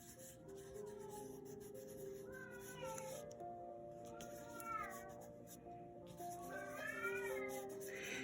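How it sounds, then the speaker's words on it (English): A house cat meows repeatedly while carrying a small toy indoors, several rising, drawn-out calls spaced across the clip, fairly close, over faint scratchy sounds of coloring on paper. "She's bringing me a little toy and she meows when she does that."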